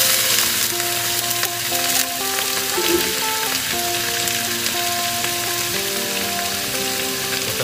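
Squid stir-frying in fiery sambal chili paste in a pan, a loud continuous sizzle and crackle with occasional scraping stirs, close and alone, with no talk.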